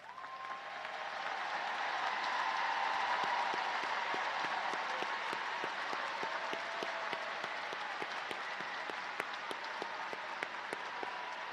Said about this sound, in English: will you please stand so we can applaud your accomplishment?